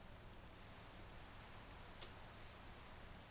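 Steady rain falls in the blocky world of Minecraft, a soft, even hiss of drops on surfaces with one faint tick near the middle, quiet and unbroken throughout.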